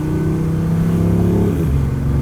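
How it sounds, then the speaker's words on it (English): A BMW i8 slows down with a smooth, spaceship-like electric whine that glides downward in pitch over the engine's steady hum. It is loud and close, and no voices are heard. "There's also like cool spaceship noises when you're slowing down."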